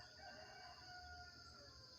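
A rooster crows faintly in the distance, its drawn-out call rising over a quiet outdoor background with no one speaking.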